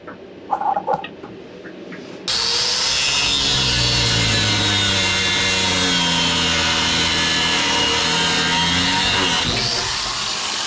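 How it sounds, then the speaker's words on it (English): Handheld power tool grinding through metal to free a rubber exhaust hanger on a Dodge Dakota truck, a loud, harsh continuous rasping cut lasting about seven seconds after a few brief clanks. "That's how you get the rubber hanger off. You just cut the metal."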